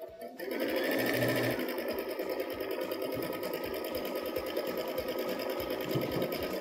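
A Baby Lock sewing machine with a digital dual feed foot stitches through quilt blocks, running steadily and loudly from start to finish after a brief quiet start, its rapid needle rhythm continuous and close.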